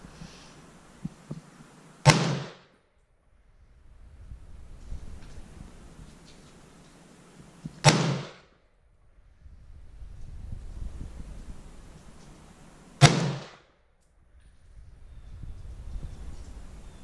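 An Imbel FN FAL rifle on a Coonan inch-pattern receiver fires three single sharp, loud shots at 50 yards, spaced several seconds apart, with quiet outdoor wind rumble in between.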